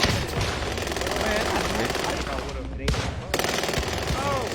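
Rapid shotgun fire in a video game, loud continuous bursts of shots with a brief gap, under excited talk from players.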